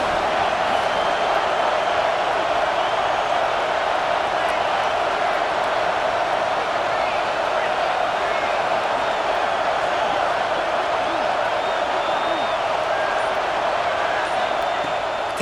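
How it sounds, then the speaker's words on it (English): Stadium crowd in a football video game, roaring behind the defense during a red-zone stand, a continuous dense wash of cheering voices that stays loud and even throughout. "The crowd getting behind this defense as they try to get a stop in the red zone."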